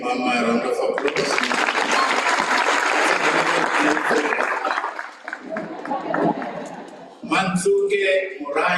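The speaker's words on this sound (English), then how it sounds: "Let's give Mama a round of applause." A graduation audience breaks into loud, dense applause that swells and holds for several seconds, then thins and dips, framed by a speaker's voice at the start and the end.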